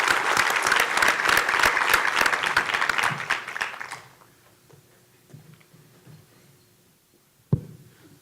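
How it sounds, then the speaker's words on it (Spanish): An audience at a university panel session on connectivity strategies gives a speaker a welcoming round of applause, loud and sustained for about four seconds before it dies away into a quiet room, with a single sharp knock near the end. "Un aplauso, por favor"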